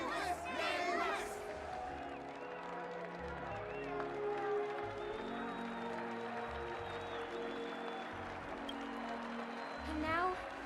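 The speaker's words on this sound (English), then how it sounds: "Let us gift our applause and cheers to these brave and dauntless Nameless." A game crowd in Honkai Star Rail applauds and cheers over orchestral music, a steady wash of clapping and voices at moderate distance, fairly faint throughout.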